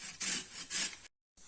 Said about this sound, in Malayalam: ഒരു വലിയ പൊട്ടറ്റോ എടുത്ത് തൊലി കളഞ്ഞ് നമുക്കിത് ഗ്രേറ്റ് ചെയ്യണം